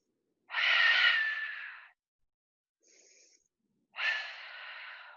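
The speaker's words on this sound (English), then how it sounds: "Take open mouth exhales wherever you are." Two long, breathy open-mouth exhales during a yoga breathing exercise, close and loud and separated by a short faint breath, with quiet between them.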